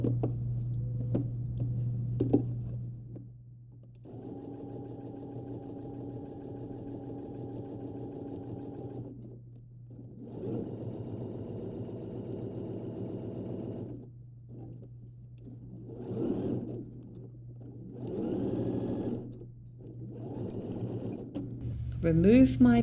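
A sewing machine stitches a 1 cm seam on girls' shorts, running in several steady mechanical bursts of a few seconds each with pauses between, close and clear over a constant low hum.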